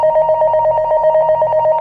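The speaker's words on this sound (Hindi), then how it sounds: "बेडरूम के टेलीफोन पर एक कॉल आता है।" A bedroom telephone on a bedside table rings with an incoming call in the middle of the night, giving a steady, loud, continuous electronic ring with fast pulsing warble, alone without voices.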